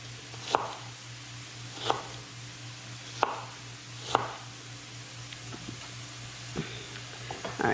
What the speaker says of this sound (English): the shallot's all sliced up there.